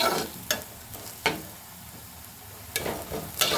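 Chopped garlic frying in a pan for a dried fish and bean seed dish: a steady low sizzle broken by several sharp, close spatula scrapes and stirs at irregular intervals.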